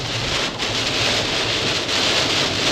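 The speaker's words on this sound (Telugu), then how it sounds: "అరే ఫుల్ అసలు ఏంట్రా హెవీ రెయిన్." Sudden heavy rain during a road trip through Kerala, a dense, steady roar of rainfall close by with some wind buffeting the microphone, no voices.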